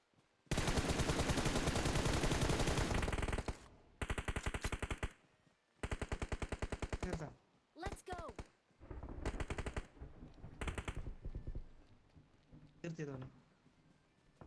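Rapid bursts of AKM automatic fire in a battle royale shooter, several long loud volleys broken by short pauses, with voices talking between and over the shooting.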